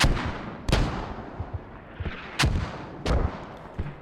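Several mortar explosions in the tactical shooter Squad, sharp booming blasts spaced irregularly over a continuous rumbling battlefield background, with smaller thuds in between.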